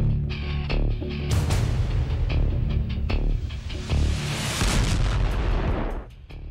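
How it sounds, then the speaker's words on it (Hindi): A B-61 bomb launching and exploding, a continuous loud roaring rumble with layered booms and blasts, swelling and sustained before easing off at the end. "फिर देखिए B-61 बम कैसे लॉन्च किया गया"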